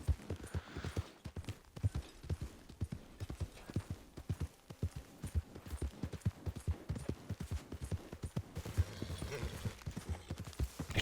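Horse hooves clip-clop in a steady, fairly close rhythm as a mount travels through mountain terrain in Red Dead Online, continuing throughout with faint ambient hum behind.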